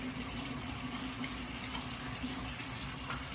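A tap runs steadily for hand washing during a wash-day hair routine, a continuous hiss and splash of water into a sink, fairly close and unbroken throughout, with no one speaking.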